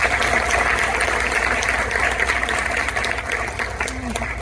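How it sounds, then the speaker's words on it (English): An audience at a 2022 brass choir concert gives the players a round of applause: loud, dense clapping filling the hall, with a voice faintly present beneath it as it begins to taper. "Let's give the brass choir one more round of applause"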